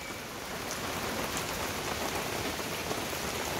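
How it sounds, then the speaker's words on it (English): Steady, dense rain pours down without pause at a campsite in Tamaterau, a constant hiss and patter drumming on a surface close by. "And it's raining. Raining hard."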